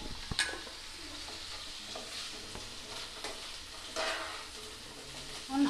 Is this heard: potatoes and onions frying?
yes